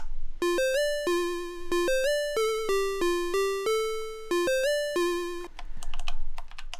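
A chiptune melody on a Dirtywave M8 steps through a quick run of pure, square-ish notes that rise and fall in a bouncy sequence, loud and clean. It ends with a short burst of clicky noise.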